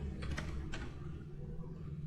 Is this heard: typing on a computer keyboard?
yes